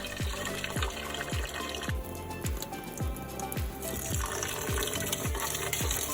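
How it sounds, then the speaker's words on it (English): Water running and splashing as rice is rinsed to wash off the starch, a steady close pour with repeated soft sloshing pulses and no talk. "washing the starch off your rice makes it less sticky"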